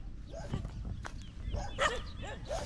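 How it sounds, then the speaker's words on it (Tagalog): A dog barks several times close by on a farm plot, sharp yelps scattered through the clip, with someone speaking briefly. "Ay, makagat lang tayo ng aso."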